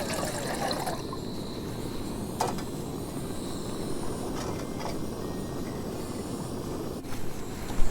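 Water pouring steadily into a pot at a trail campsite, a continuous close trickle with a few faint clinks and a louder knock at the end.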